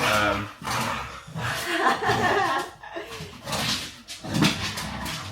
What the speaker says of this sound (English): The dogs are just like fighting on my feet.